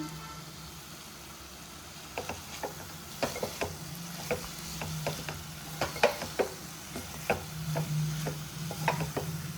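Curry leaves sizzling as they're added to bitter gourd curry, a soft steady frying hiss under irregular sharp clinks and stirring scrapes, fairly quiet.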